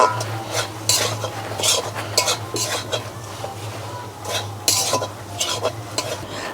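Grated coconut is lightly fried in a pan, with a soft sizzle and repeated scraping of a utensil against the metal.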